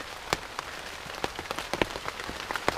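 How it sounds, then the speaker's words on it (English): Rain falls in a rainforest, with steady patter and scattered louder drops striking nearby leaves and surfaces, and no voices. "And it's raining again, in the rainforest."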